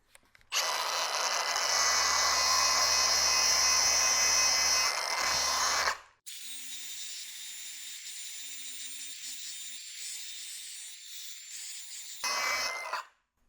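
A power grinder spins a deburring wheel against steel tubing to polish it, giving a steady loud whirring grind for about six seconds, then a lighter high hum as the wheel runs free before a brief final burst of contact.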